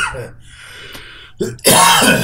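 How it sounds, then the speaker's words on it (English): A single harsh cough bursts out at the end after a quieter throaty rasp, close and loud. "Can't help but cough."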